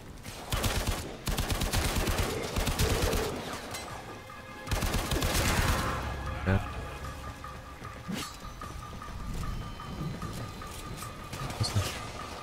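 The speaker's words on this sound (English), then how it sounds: "Wait, someone's shooting at me" Gunfire in the Warframe shooter game, clusters of rapid loud shots and bursts with mechanical clatter and ambient rumble, close and busy, with gaps between volleys and no talking.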